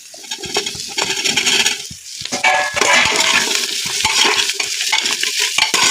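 A spoon stirs a spiced rice and potato mixture in a cooking pot with bay leaf, producing steady scraping and shuffling close by, with a few sharp clinks against the metal. No one speaks.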